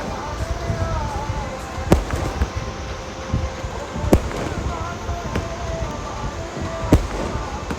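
At a Sikh nagar kirtan procession in Chamkaur Sahib, fireworks burst in sharp, loud cracks about every two to three seconds over a continuous wash of crowd voices and chanting.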